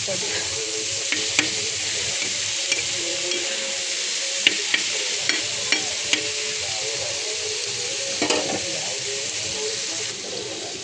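Tomato with egg and a little salt fries on a tawa for egg bhurji, producing a continuous hissing sizzle with occasional sharp ticks and scrapes of stirring, no voices.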